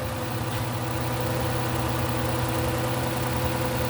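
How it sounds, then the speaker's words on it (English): A 2006 Chrysler 300 with the 3.5 engine idles steadily and evenly for a few seconds, a continuous low rumble close to the microphone with no voices over it. "so I started the car up. I got it running. It's running good."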